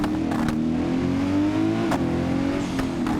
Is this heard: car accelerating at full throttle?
yes